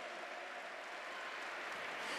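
A church congregation claps together in a steady, faint, far-off wash of applause that keeps going without a break.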